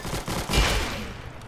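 Gunfire in the Roblox game Arsenal comes as a short, rapid burst of game shots, fairly loud and dense across about a second and a half.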